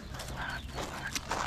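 Horses walk around a dispersed campsite on Rim Road, their hooves clip-clopping in a few soft, uneven steps close by over a steady outdoor background.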